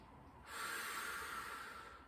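A slow, audible breath during a Pilates exercise, taken while lying down, rising to a steady airy hiss after a short quiet start and holding for about a second and a half, close and alone.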